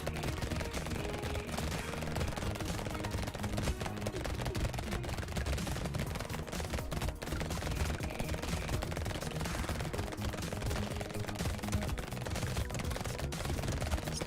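Rapid SMG fire from the video game Brotato, a dense, continuous stream of small-arms shots running steadily throughout under busy game effects and music.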